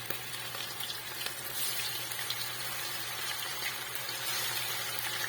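Chicken gizzards frying in hot oil in a pan, giving a faint, steady sizzle with light crackles over a low background hum and no talking.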